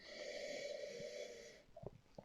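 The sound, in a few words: sniffing a beer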